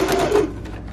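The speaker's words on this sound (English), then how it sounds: "And then I'm gonna go ahead and sew on the line of the dart." A sewing machine runs briefly, stitching a dart line through fabric in a quick, close mechanical whir lasting about half a second before fading.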